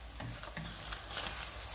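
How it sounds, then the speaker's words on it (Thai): A spatula scrapes and stirs around the side of a frying pan as an omelette sizzles, close and steady with a few distinct scraping strokes over the frying hiss. "มีการแสะข้างกระทะด้วยนะคะ"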